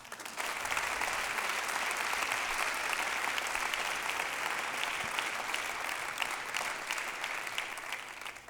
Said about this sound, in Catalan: Un aplaudiment per al Borja Penalba.